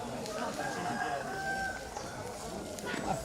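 A rooster crows repeatedly at moderate distance during a village election count in Sangalla Utara, Tana Toraja, heard under steady crowd murmur and background voices.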